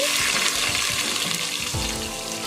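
Sliced onions fry in hot oil with tempering seeds in a heated bowl, producing a loud, close, steady sizzle and crackle that holds throughout the short stretch without any speech.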